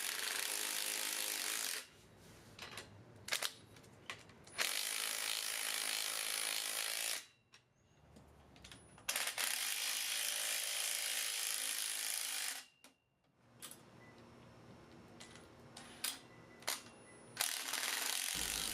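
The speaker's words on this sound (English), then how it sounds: "It also works nicely for driving machine screws, as we can see here where I put together my new miter saw stand." A Ridgid 12V palm impact driver drives machine screws while a miter saw stand is assembled, giving loud buzzing rattling bursts of several seconds each, separated by short pauses and a few clicks.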